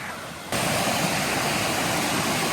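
Creek water in Pisgah National Forest rushes loudly and steadily, a dense broadband roar that jumps up sharply after a brief quieter start and holds without pause.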